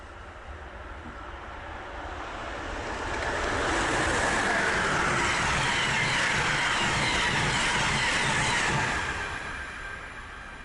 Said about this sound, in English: The train is passed by ACS-64 622.